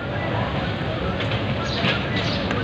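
A train rumbles past at close range, a loud continuous roar of wheels and carriages filling the whole moment without a break.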